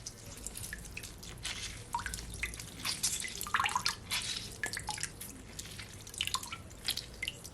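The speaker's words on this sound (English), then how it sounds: "I'm gonna add my lime to my drink." Lime juice drips through a bag into a drink, making a steady stream of small, faint, close-up liquid drips and trickles, with no voices.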